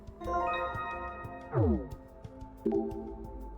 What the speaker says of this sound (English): cembalo has its strings plucked